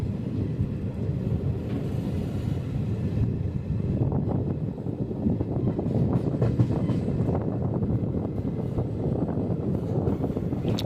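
A train departing Diguvametta station in the Nallamala forest rolls along steadily with a deep, continuous rumble and rhythmic clatter, sustained throughout with no talking.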